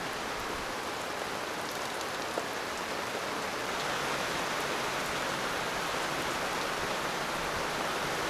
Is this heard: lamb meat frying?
no